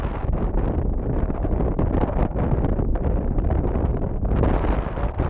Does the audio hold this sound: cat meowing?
no